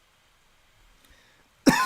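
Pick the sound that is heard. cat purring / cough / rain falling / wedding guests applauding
cough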